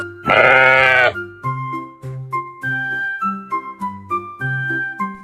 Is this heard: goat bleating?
yes